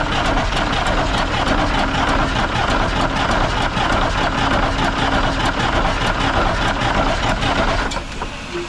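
A 1965 Kenworth truck with a Fedderly Marion 546 engine cranks steadily and loudly for several seconds, a dense rapid mechanical churn that fades slightly near the end, with no talk over it.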